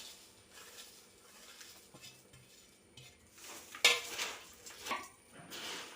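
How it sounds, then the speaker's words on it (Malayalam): Fried spicy Kerala mixture snack gets tossed and stirred in a bowl, a soft rustle and scrape that stays faint at first, then grows into louder crunchy shuffling with a sharp clink near the middle. "ഇതെല്ലാം നല്ലതുപോലെ ഒന്ന് മിക്സ് ചെയ്ത് കൊടുക്കുക"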